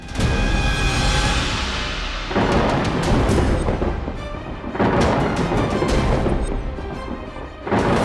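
Thunder strikes in a comedy sketch: several loud, cracking booms in succession, each with a sharp onset and a long rolling rumble that decays before the next crash.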